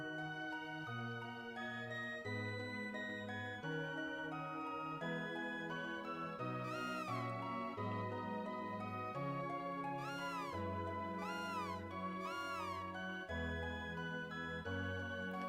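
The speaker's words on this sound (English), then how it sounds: "So there's a cat." Cartoonish cat meows from the video game Chrono Trigger, a few short pitched mews repeating over a steady, tuneful game soundtrack that plays throughout.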